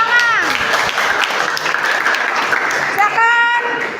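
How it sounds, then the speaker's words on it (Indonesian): A classroom group of students applauds after a group presentation, steady dense clapping filling the room, with some voices and chatter mixed in over it. "Tepuk tangan."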